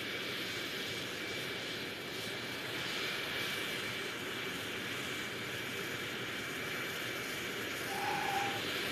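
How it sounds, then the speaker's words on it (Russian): A distant jet engine roars steadily, a low sustained drone with a faint higher whine, no voices. "Может, реактивный самолет долетит до Марса?"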